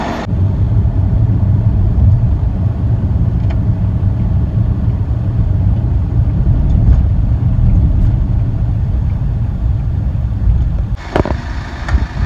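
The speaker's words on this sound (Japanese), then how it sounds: "ワゴン車だ、乗ります。" A wagon-style community bus in Nara, heard from inside while riding, gives a steady, loud low engine and road rumble throughout, with a brief rattle near the end.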